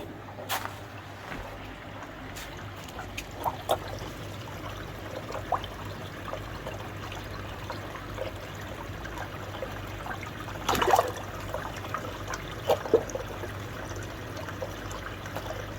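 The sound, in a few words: indoor koi pond return water flowing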